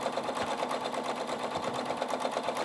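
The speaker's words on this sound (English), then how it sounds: "I'm going to reduce the tension quite a bit and stitch a little bit more" A Husqvarna Viking Topaz 40 sewing machine runs steadily through free-motion quilting with reduced thread tension, its fast, even needle clatter continuous and close throughout, with no talking.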